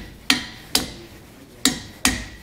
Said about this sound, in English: I like to start with the hammer by itself and see if I can get it to just kind of grab enough to hold itself on there